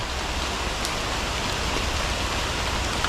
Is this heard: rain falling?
yes